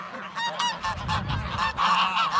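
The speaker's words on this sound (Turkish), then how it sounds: "Kazlar da çok bağırıyor." Geese on a farm honk loudly and repeatedly, a clamour of overlapping nasal calls in quick irregular bursts, close and without any talking.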